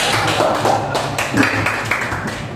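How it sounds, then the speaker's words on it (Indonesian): A class in an Indonesian teacher-training session claps hands together, a cluster of sharp, uneven claps and taps recorded close, with a faint murmur of voices underneath. "tepuk tangan dulu buat kita semua."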